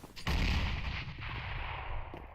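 A gunshot in Counter-Strike: Global Offensive on the Mirage map, a sharp blast followed by a rumbling, reverberant tail that fades over a couple of seconds, fairly quiet overall.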